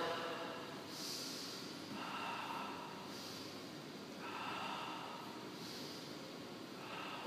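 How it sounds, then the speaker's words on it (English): Slow, deep breaths in and out during a foam roller exercise for the thoracic spine, each breath a soft airy rush repeating in an even rhythm, faint and close with no talk. "inhale and exhale."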